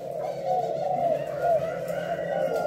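A pigeon gives a steady, low, resonant coo up close while being packed into a box for shipping, a continuous throaty murmur with no talk over it.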